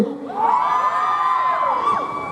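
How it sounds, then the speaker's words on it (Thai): A crowd, many sounding like children, bursts into loud, high-pitched screaming and cheering that lasts a couple of seconds at a World Milk Day event at Siam Paragon. "ใครดื่มนมแล้วมีพลังส่งเสียงกรี๊ดดังๆหนึ่งที"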